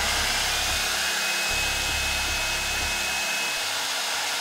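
Hair dryer with a diffuser attachment blowing on curly hair, a steady close whooshing roar that runs throughout without pause or speech.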